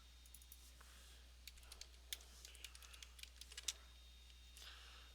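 Typing on a computer keyboard, quiet irregular clicks of keys in short bursts, heard close and alone against a low steady hum.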